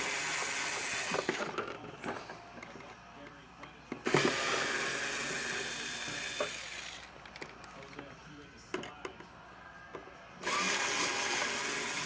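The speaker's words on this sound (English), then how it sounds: "So I'm going to do it with a power screwdriver to make things a little quicker" A power screwdriver spins out feeder assembly screws during a battery replacement, giving several short whirring bursts of moderate loudness separated by pauses, with a person talking quietly between them.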